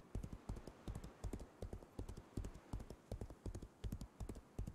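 Horse hooves in the video game Legends of Aria: a steady, quick galloping clip-clop rhythm of hoofbeats, light and continuous, with no voices over it.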